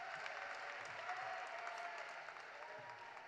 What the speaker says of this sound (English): Can I get a round of applause for Derek, who's running the teleprompter